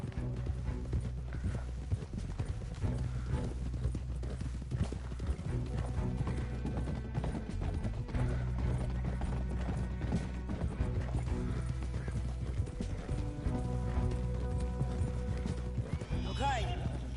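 Steady clip-clop of horse hooves with occasional whinnies in the video game Red Dead Redemption 2, layered under game music and talking voices throughout.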